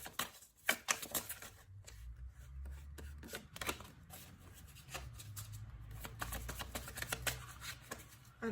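Tarot cards are shuffled and drawn at close range: quiet, uneven bursts of crisp riffling, slapping and sliding taps over a soft low background.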